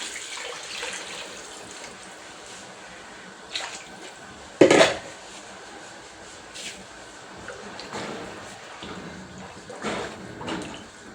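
Water poured into a cooking pot for beef pilau, a soft running trickle broken by a sharp clank of the pot or lid near the middle and a few lighter knocks, close by.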